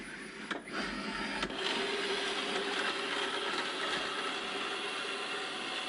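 iLife robot vacuum runs back to its charging base with a steady whirring hum of motor and brushes, a couple of small knocks early, moderately quiet and close.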